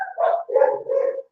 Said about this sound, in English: you might be able to hear the dogs barking